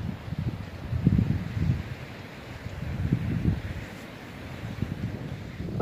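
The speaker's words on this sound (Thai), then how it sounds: "เสียงน้ำทะเลเสียงคลื่นทะเลดังมากเลยค่ะลมแรงเนาะคลื่นทะเลก็จะเสียงดังนิดนึง" Strong wind gusts buffet the microphone on a Norwegian coastline, with crashing sea waves rumbling in steady swells underneath, loud and continuous with no voices.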